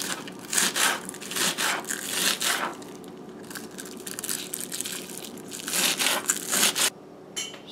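Scallions are chopped with a knife in a home kitchen while making a soya chunks curry: close, crunchy cutting in irregular bursts, with no one speaking.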